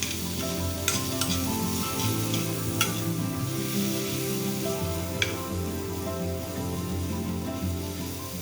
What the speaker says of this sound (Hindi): बस एक बड़ा टमाटर, इसको मैंने टुकड़ों में काटा है, इसको भी थोड़ा सा अच्छे से भून लेंगे।